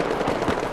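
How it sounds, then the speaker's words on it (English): Flashbang grenades going off in the video game Battlefield 4, a loud, dense burst of blast noise that fills the whole short moment. "Flashbangs."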